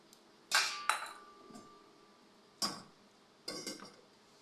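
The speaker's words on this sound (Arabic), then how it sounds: "وهبدأ انزل بيها في الحلة بالشكل ده" Chicken pieces, onion and tomato dropped into a metal cooking pot give several sharp clanks and clatters in separate bursts, with quiet gaps between them.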